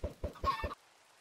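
A Minecraft chicken (Java Edition 1.19.2) clucks in four quick, close bursts lasting under a second, then goes silent. No voices.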